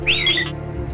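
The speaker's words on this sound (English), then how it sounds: "This is the sound that R2-D2 makes." Short electronic warbling chirps and beeps like R2-D2, bright and rapid, lasting about half a second before fading out.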